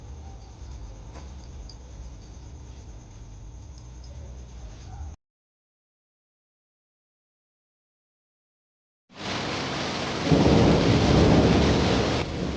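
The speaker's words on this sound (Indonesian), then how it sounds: "Lah, kenapa tiba-tiba jadi hujan dah?" Sudden summer rain in a short drama scene: a steady rushing downpour, then several seconds of dead silence, then a louder, denser burst of heavy rain with rumbling like thunder.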